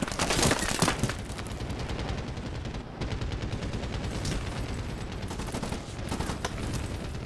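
Gunfire in Medal of Honor Warfighter, loud rapid automatic bursts rattling almost continuously, with heavier blasts near the start and sustained firing through to the end.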